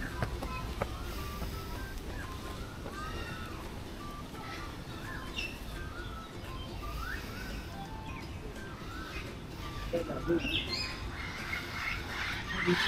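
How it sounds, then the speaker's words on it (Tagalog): Birds calling in Kowloon Park, Hong Kong, a scatter of faint chirps and squawks heard at a distance over a soft background hum, with low voices nearby. "may mga ibon-ibon nga"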